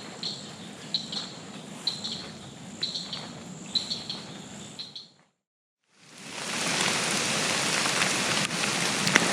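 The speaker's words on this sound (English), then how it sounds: "Rain's coming through the area." Steady rain falling near a swampy roadside area, a dense even hiss that cuts out briefly, then returns louder and closer, with faint insect or cricket chirps in the first half.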